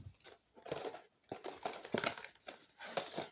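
Scissors snipping open a mail package, a series of short close crunchy cuts and crinkles in an uneven rhythm, quiet with no voices.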